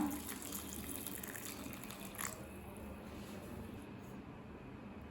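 Hot water poured over half a cup of almonds to soak them for badam halwa, a steady gushing pour that runs close and fairly loud for several seconds, with no talk.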